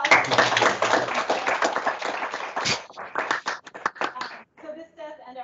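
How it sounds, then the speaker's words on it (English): Round of applause from an audience at an academic roundtable on the classics, clapping that thins out and stops partway, followed by brief talking. "One more round of applause."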